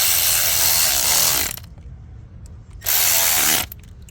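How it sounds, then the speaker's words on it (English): A tool tightens bolts on a VW/Audi 2.0L turbo PCV crankcase ventilation valve in two loud, close, buzzing bursts of about one and a half seconds each, separated by a quieter gap. "So now I'm gonna start tightening the bolts."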